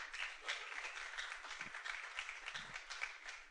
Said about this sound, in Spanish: Demos un aplauso al Señor.